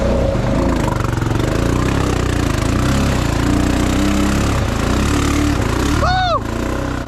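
A lifted Honda Foreman 500 ATV engine drones and revs loudly and steadily while the machine is stuck, with a brief rising whine near the end.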